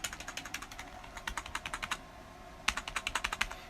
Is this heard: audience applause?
no